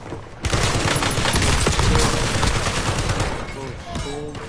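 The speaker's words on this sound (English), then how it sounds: "Shooting on me." Rapid, sustained automatic gunfire in the video game Warzone, a dense, loud volley of overlapping shots that runs for several seconds before tapering into scattered bursts.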